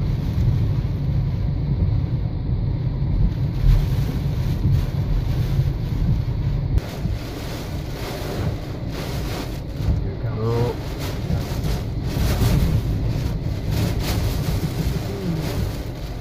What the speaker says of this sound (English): Strong gusts, really strong gusts.